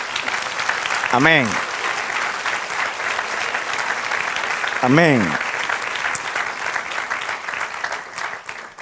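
A church congregation applauds steadily during a Spanish-language sermon, continuous clapping that fills the room while a voice calls out twice over it.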